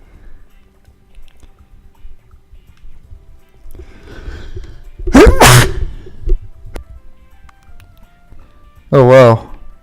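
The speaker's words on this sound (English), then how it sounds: "I'm about to sneeze." A loud, explosive sneeze bursts out after a few quiet seconds, then a second sharp sneeze-like burst follows near the end.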